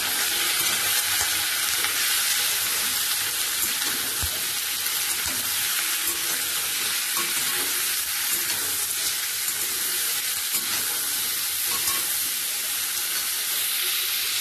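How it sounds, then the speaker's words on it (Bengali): Food sizzles and hisses steadily in hot oil in a pan as it is fried with salt and turmeric and stirred, a loud, continuous close-up crackle with no voices. "অল্প করে নুন দিয়ে দেবো, আর দেব অল্প করে হলুদ। এখন ভালো করে ভেজে নেব।"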